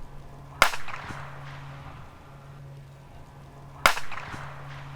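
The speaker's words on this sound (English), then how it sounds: "You can just hear a little musical tone following behind the report of the rifle" Two subsonic 6.5 Creedmoor rifle shots, each a sharp loud crack with a faint musical pew tone trailing behind the report, fired a few seconds apart outdoors.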